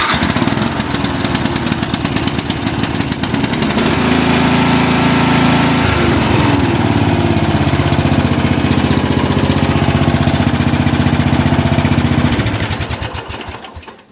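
A Murray lawn tractor engine runs steadily and loud up close, a throbbing mechanical drone that holds for several seconds, shifts pitch slightly, then winds down toward the end, with no talking.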